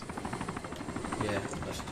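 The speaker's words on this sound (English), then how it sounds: "I hear a helicopter." A helicopter in the military shooter game Arma 2 drones steadily with a rhythmic rotor thump, moderately distant and continuous throughout.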